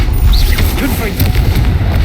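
Explosive Confringo spell blasts in the Hogwarts Legacy video game, a dense rumbling boom with crackling bursts filling the whole moment, mixed with game sounds and a voice underneath.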